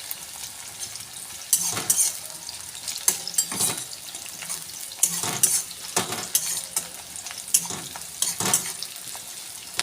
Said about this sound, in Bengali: আমি এরপর পেঁয়াজটা নেড়ে চেড়ে একটু বাদামি করে ভেজে নেব।